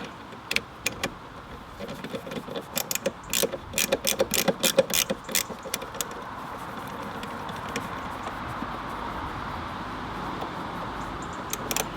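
A T10 Torx driver tightening bolts on a Mountune air box fitted to a Ford Fiesta ST, heard as a run of quick, close ratcheting clicks in bursts that stop partway through, leaving low background hum.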